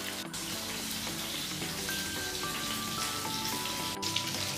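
Chicken pieces fry in a pan over a medium flame in a spicy honey garlic dish, a soft, steady sizzle with light popping and a couple of sharp knocks, no voices.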